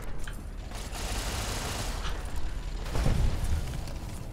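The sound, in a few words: sentry bots firing in the video game Fallout New Vegas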